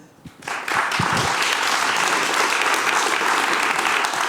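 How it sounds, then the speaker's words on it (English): Audience applause at a live talk event, swelling from a few scattered claps into steady, dense clapping that carries on loud and even to the end. "Please, a round of applause for Sara Punt."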